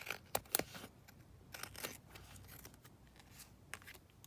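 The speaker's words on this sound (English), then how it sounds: "that one just needs a bit more trimming down the end" Scissors trimming the end of a handmade fabric tag, a few short crisp snips and rustles, close and quiet against a hushed room.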